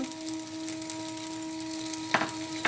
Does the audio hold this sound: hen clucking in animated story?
no